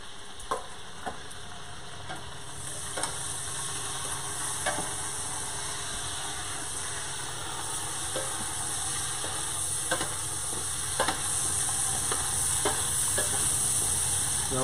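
Dry aged beef browning in a pot on a stovetop, giving a steady, close frying sizzle with scattered crackles and pops that grow slightly louder over time, with no talking.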